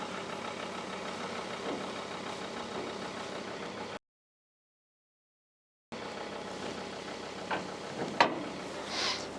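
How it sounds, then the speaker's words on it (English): A vehicle engine idles steadily while backing up onto a trailer hitch, a low continuous rumble broken by a short silent gap and a few clunks near the end. "going to back up now onto the hitch"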